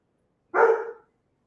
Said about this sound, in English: the dogs are active today